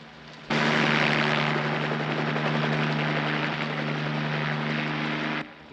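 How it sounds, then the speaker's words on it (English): A helicopter comes in to land close by in a backyard, its loud steady rotor and engine drone starting abruptly and holding strong, with low pulsing blade tones, before cutting off sharply near the end. "That's a helicopter."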